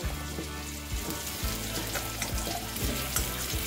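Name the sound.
potatoes frying in hot oil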